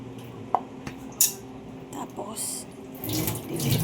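Water trickles and splashes from a tap into a container onto cat grass seeds, with a few light clicks and knocks from handling, growing a bit fuller toward the end.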